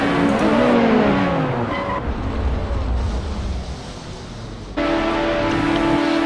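Lotus Exos 125 race cars at Imola scream past at high revs, engine notes sweeping down as they go by, then the roar drops away briefly before a loud engine surges back, with no audible impact.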